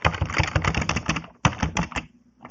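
Quick bursts of clattering keystrokes on a computer keyboard as a Linux command is typed, then a brief pause, another run of taps and a final lone keystroke, close and crisp.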